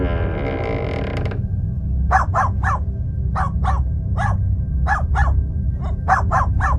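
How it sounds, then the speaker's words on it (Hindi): A dog barks repeatedly at a wall in a spooky cartoon house, sharp yelps in uneven bursts over a low rumbling background after a brief tonal sound at the start. "उसका कुत्ता दीवार की तरफ देखकर भौंक रहा था।"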